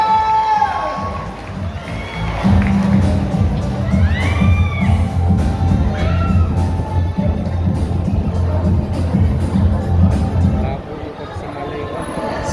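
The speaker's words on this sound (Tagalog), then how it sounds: "Marinig nga po ng isang malakas na palakpakan na may kasamang hiyawan!" A large crowd at a Tondo barangay rice-giveaway event cheers and whoops loudly, with children shouting. The roar swells and holds for several seconds while voices carry over it.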